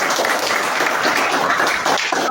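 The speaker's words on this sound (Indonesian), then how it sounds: "Kelompok 1 tepuk tangan" A classroom group claps together in a short burst of applause, dense and steady throughout the brief moment.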